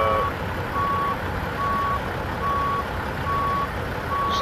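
A truck backing a trailer in a trucking video game gives a steady reversing beep, evenly spaced pulses repeating about every 0.8 seconds over a constant low engine hum.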